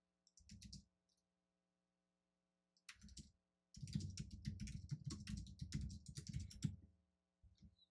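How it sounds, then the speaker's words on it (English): Bursts of typing on a computer keyboard: a short flurry, a pause, another brief run, then a long steady stretch of rapid clicking keystrokes close by, with no talk. "let me focus and type this"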